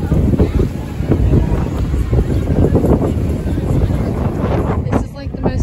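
Strong wind buffets the microphone outdoors on a city street in South Carolina, a steady roaring rumble that stays loud throughout with no clear talking over it.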